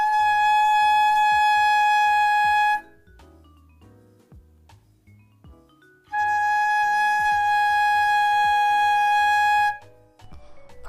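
A flute head joint played alone gives two long, steady, pure tones with a good sound, each held for a few seconds and separated by a quiet gap, close and clear.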